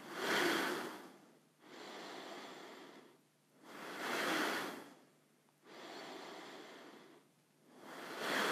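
Slow, deep yoga breaths during a morning session, long airy inhales and exhales alternating in a steady rhythm of about four seconds each, close and soft with no talking.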